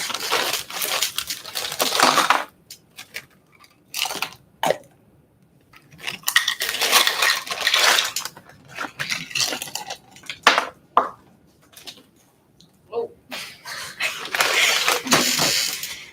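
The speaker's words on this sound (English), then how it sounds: "Next, we're going to add 2 cups of ice." Two cups of ice dropped into a container during a classroom drink demonstration, heard as a run of sharp clattering, tumbling cubes in bursts separated by short pauses, loud and close with no talking.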